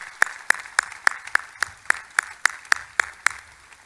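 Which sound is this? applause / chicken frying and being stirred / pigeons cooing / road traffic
applause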